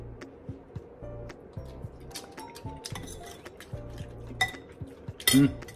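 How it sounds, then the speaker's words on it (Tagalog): A spoon stirs ingredients for Bicol-style sinanglay na tilapia in an indoor kitchen, giving intermittent clinks and taps against the bowl, with a sharper rattle of utensils near the end. "I-mix ko na to."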